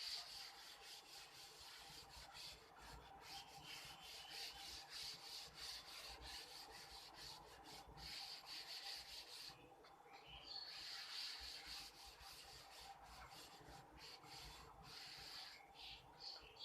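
Steady rubbing or scraping of a small object, a continuous coarse friction sound lasting throughout with no talk, during a chemistry lesson on gas pressure.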